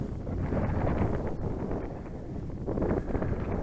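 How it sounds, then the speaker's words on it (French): A light, cool wind of about 15–20 km/h blows on a mountain hike, a steady close buffeting rush against the microphone that swells slightly partway through. "Il y a un petit vent de 15-20 km/h, un peu frais"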